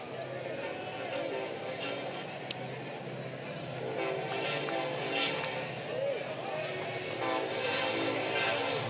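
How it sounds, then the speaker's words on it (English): Train rolling behind the right field wall of a college baseball stadium, a steady rumble with horn-like tones spread through the background beneath ongoing broadcast commentary. "And perhaps the final train behind the right field wall."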